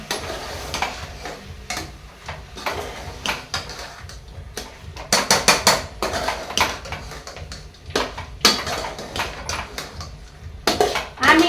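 Bone-in chicken stirred into onions in a pot for a village-style thin chicken curry, with repeated close scraping and clanking of a spoon against metal, some faint sizzling, and bursts of louder knocks.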